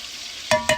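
Gumbo in a home kitchen pot gives two quick stirring scrapes close by, each with a brief hissing splash, after a quiet stretch with a faint steady background.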